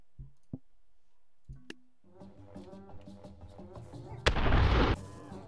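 A musketeer in the game Totally Accurate Battle Simulator fires a single loud, booming musket shot after several sparse clicks and pops, while background music plays.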